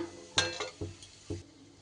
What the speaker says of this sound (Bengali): গোটা একটা তেজপাতা আর একটু গোটা গরম মশলা, তারই সাথে একটু জিরে